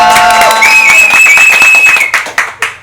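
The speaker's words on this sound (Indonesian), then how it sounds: "Tepuk tangan dulu semuanya" A small group gathered for a podcast recording claps, with brief cheering and whistles at first and then a few separate claps fading out near the end.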